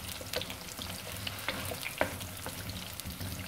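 Chunks of arvi (taro root) fry with yogurt in a pan, giving a steady close sizzle broken by soft stirring scrapes and small pops.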